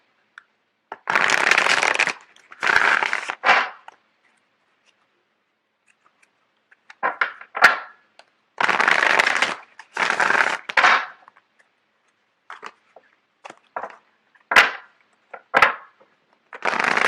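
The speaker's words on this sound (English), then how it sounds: "Just give me a second while I get the cards shuffled out." Tarot cards are shuffled close by in repeated brisk bursts of riffling and flicking, separated by short pauses, with no talking.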